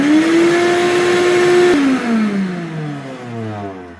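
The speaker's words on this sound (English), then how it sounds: "So let's do the shop vac." A Ridgid shop vac motor, run on power from an inverter fed by a server battery, whines steadily, then drops in pitch and winds down over a few seconds, close and loud with no voices.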